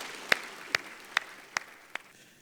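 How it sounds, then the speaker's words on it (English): A keynote speaker at a West African business leadership awards gala gets sparse applause: five widely spaced, faint claps over a low hum of the hall. "A warm round of applause for Dr."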